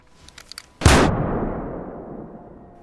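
A single loud gunshot cracks out in a film scene after a few faint knocks, its blast trailing off into a long, fading reverberant tail.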